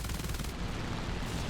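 Aircraft cannon and machine guns fire in War Thunder, the A7He1 plane shooting at an enemy wing: a dense, continuous rattle of rapid shots, loud and close, with the burst thinning briefly midway before resuming.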